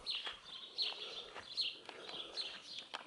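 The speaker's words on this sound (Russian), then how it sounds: "Вот как птички поют." Small birds sing outdoors in early June, repeating bright chirping phrases at a steady rhythm of about one every three-quarters of a second, moderately distant with no talking.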